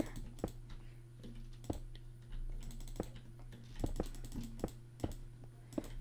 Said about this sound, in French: le micro, comme on peut voir, est quand même assez proche du clavier. Et quand je joue, du coup, bah, vous l'entendez.